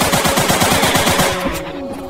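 Rapid machine gun fire in a farm-clearing shooter video game, a loud steady burst of quick shots for about a second and a half that stops abruptly and leaves a ringing tail.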